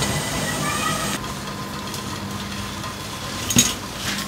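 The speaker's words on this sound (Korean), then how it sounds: "거품이 나면서 막 끓죠." Steady rolling boil of water in a large pot blanching king oyster mushrooms, a continuous bubbling hiss throughout with a brief clank partway through.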